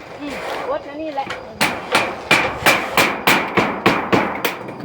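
Hammer strikes during thatching of a large hut roof, about ten sharp, evenly spaced blows ringing out close by after a brief stretch of a voice.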